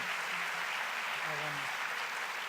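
An audience at a conference session applauds in a steady, even wash of clapping that holds for the whole stretch, with a voice speaking faintly beneath it.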